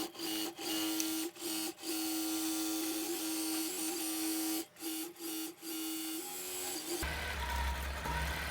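A Gammill longarm quilting machine stitches a charity quilt with a steady mechanical whir and hum, interrupted by several brief pauses and speed changes, then shifting to a rougher, noisier running sound near the end.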